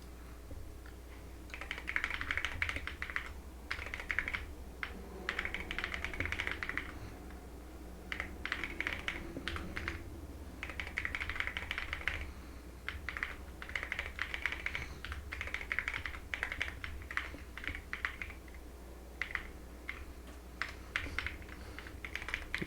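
Fingers type on a computer keyboard in bursts of quick clicking keystrokes separated by short pauses, close and fairly quiet, with no talking.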